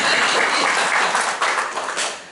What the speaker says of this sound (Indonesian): Yang percaya tepuk tangan buat Tuhan.